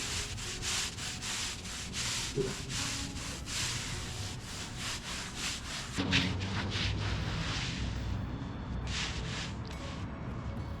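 Cleaner being scraped and worked into an oil stain on a hard surface, a steady close rubbing and scrubbing sound that runs throughout with a slight change in texture partway through.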